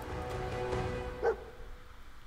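A dog in the video game Fallout 4 gives a single short bark over a faint humming game background.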